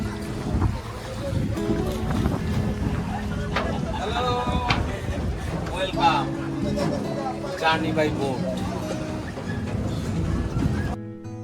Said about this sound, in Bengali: অবশেষে অনেক কষ্ট করে এক হাজার টাকা ঘন্টা প্রতি আমরা একটি ট্রলার ভাড়া করেছি ঘুরব এই বিশাল পদ্মার বুক জুড়ে